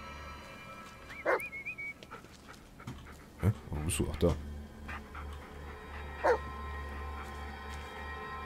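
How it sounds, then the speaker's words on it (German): A dog in the Blair Witch video game gives a short whimpering yip and some panting and rustling over a low steady hum, fairly close, while someone talks briefly. "Hund?"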